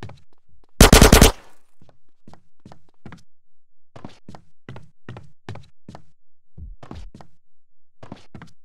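A short, loud burst of rapid gunfire erupts in GTA San Andreas during a home-robbery scene, followed by a long run of evenly spaced dull knocks and thumps like footsteps, with no voices.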